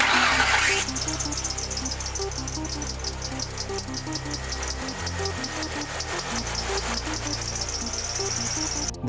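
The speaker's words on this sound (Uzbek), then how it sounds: "Uchinchi tovush bu chillash yoki g'ichirlash." A car engine's drive belt squeals under the hood in fast, evenly repeating high chirps over a steady low engine hum. A brief broadband burst comes at the very start.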